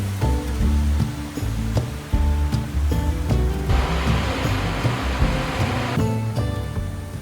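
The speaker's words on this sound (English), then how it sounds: "after we'd spent plenty of time listening to the roar of the waterfall, watching the water pour down" A waterfall in Lauterbrunnen valley, Switzerland, pours down in a broad steady roar of rushing water, loud and continuous, with no voices.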